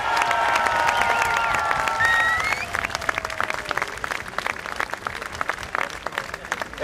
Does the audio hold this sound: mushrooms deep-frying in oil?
no